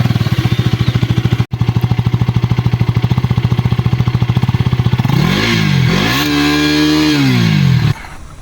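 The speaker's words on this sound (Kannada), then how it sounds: "ಆದರೆ ಇವಾಗ 10 ಜನರೇಷನ್ ಡ್ಯೂಕಲ್ಲಿ ಫುಲ್ ಚೇಂಜ್ ಮಾಡಿಬಿಟ್ಟವ್ರು ಇಂಜಿನ್ ಸೌಂಡೆಲ್ಲ" A KTM Duke 250 Gen 3 engine idles with a steady close-up thumping pulse, then revs up and down in two rising and falling sweeps before cutting back.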